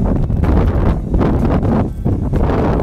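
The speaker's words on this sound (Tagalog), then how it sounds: "Maririnig nyo naman dito yung weather ba, mahangin." Strong wind gusts over an empty lot on a highway in Tagaytay, roaring loudly into the microphone in surging waves with brief lulls, and no one speaks.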